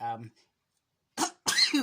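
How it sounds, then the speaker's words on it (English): A brief bit of voice, a moment of silence, then a sharp, close sneeze bursts out in two quick parts. "And I'm going to sneeze"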